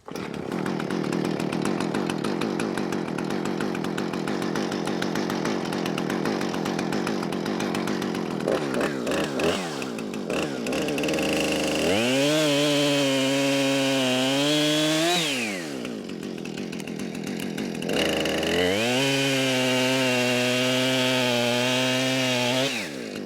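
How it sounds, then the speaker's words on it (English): A chainsaw idles with a rough rattle, then revs to a loud, high whine twice as it cuts through pine logs, dropping back to idle between the cuts. "the first thing I'm going to do is cut a couple of pieces about 12 to 14 inches long"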